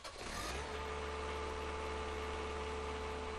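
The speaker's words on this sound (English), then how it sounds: "After the engine is warmed up and running smoothly, increase the throttle to full power." A small lawn mower engine, just started and warming up, runs with a steady, continuous hum at close range after a brief rising onset, with no voices over it.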